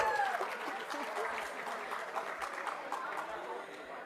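A conference audience claps for a speaker joining a panel on sustainable family farming. The applause is moderate and continuous, slowly easing off, with faint low thumps and a brief voice near the start.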